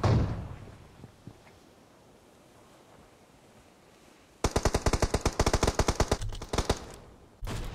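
Automatic gunfire in PUBG Mobile: after several seconds of near-quiet ambience, loud rapid bursts of shots rattle close by in quick strings, with brief pauses between bursts.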